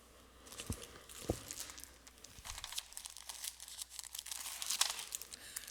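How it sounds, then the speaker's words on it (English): Plastic packaging of cross stitch kits crinkles and rustles close by in bursts, with a couple of sharper crackles and handling noises throughout, alone with no talking. "It's going to be a lot of crinkling today, my apologies."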